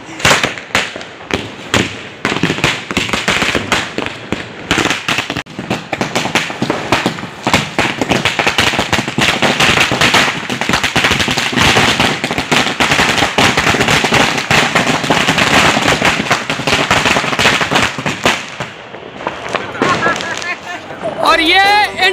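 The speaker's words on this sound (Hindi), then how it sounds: "भरपूर आनंद लीजिए पूरी पूरी पूरी आतिशबाजी का" Diwali firecrackers and fireworks go off in a dense, continuous barrage of loud crackling bangs for about twenty seconds, then stop abruptly with a few scattered pops at the end.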